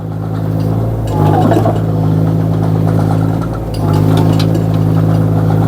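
A Kobelco 1.2-ton mini excavator's engine runs steadily near at hand, holding a strong low drone that swells twice as the revs climb and it drives, with no voices over the machinery.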